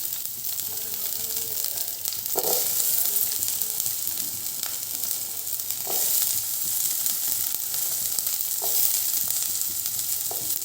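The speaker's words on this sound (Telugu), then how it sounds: "ఆయిల్ హీట్ అయింది కదా, ఇప్పుడు నేను ముందుగా క్యాప్సికమ్ వేసేస్తాను." Capsicum sizzles steadily in hot oil in a pan, a loud, continuous close-up frying hiss with a few faint clinks of stirring.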